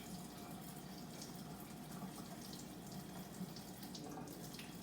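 Tap water runs steadily into a kitchen sink while a dish is washed by hand, giving a constant, close splashing hiss that goes on without a break and with no voices.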